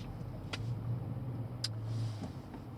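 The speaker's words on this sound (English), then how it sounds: "Man, traffic is not good." Road traffic with cars passing at a steady distance, a continuous low engine hum and rolling noise, broken by a couple of brief sharp higher clicks.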